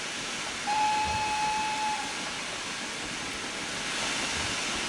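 A train in the rail simulator game Trainz Railroad Simulator 2019 screeching while slowing, a thin steady high squeal lasting about a second over a constant loud rumbling roar of the moving train.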